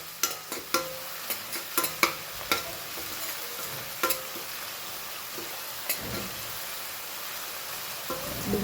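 Onions fry in a pan at a night street food stall, a steady soft sizzle with scattered scraping clicks of a spatula stirring, denser at first and then sparser.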